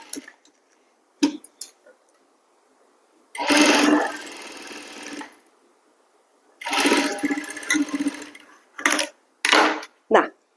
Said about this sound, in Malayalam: ഇവിടെ നമ്മൾ ഇങ്ങനെ തിരിച്ചടിച്ചു കൊടുക്കണം തിരിച്ചെന്ന് വെച്ചാൽ മടക്കി അടിച്ചു കൊടുക്കണം